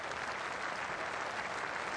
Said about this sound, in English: Steve Harmison, as applause rings out around this ground